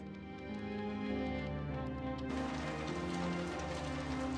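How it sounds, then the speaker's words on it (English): Steady rain falling outside in the Coraline PlayStation 2 game, a continuous hiss under a low, sustained musical drone, with no voices. "It's raining outside."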